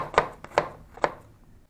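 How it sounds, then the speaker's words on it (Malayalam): A knife chops garlic cloves on a board, three crisp close thuds spaced about half a second apart with a lighter tap between, then quiet. "അത് നമുക്കൊന്ന് ചെറുതായിട്ട് അരിഞ്ഞെടുക്കാം."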